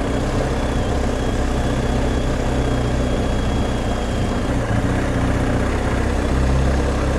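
Engine of a BMW R1250 GS Adventure motorbike ridden quietly through a village in the Cotswolds, a loud, steady low drone with constant rumble throughout and no talking.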